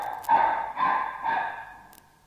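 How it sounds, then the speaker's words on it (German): A dog barks at a monkey perched high in a Christmas tree, three drawn-out yelping barks in a row, moderately loud and somewhat muffled, with no talking. "Und der Hund bellt ihn an."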